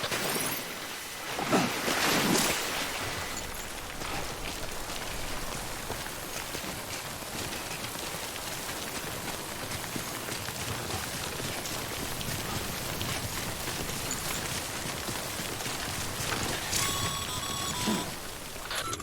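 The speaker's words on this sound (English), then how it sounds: "Don't stay out in the rain any longer than you have to." Steady timefall rain falls in Death Stranding, a dense continuous hiss of drops on surfaces that stays loud throughout with a few brief louder bursts.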